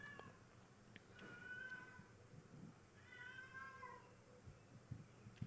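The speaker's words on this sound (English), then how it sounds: "This cat is already annoying me." A cat meows indoors in two drawn-out, wavering calls, a second apart, faint against a quiet room hum with a few soft knocks.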